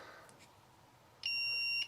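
A steady electronic beep from a 2015 Numatic Henry HVR200-12 vacuum cleaner being switched on starts abruptly after a quiet stretch and holds as a high, clear tone for about half a second, close by.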